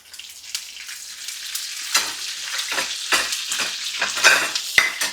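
Curry leaves crackle in hot oil and are stirred in a pan, giving a bright, busy sizzle with rhythmic scraping strokes that grow louder partway through.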